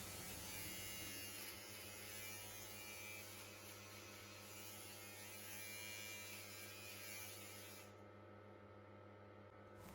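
An electric beard trimmer buzzes steadily and close up for the whole stretch, a constant motor drone with a slight shift near the end.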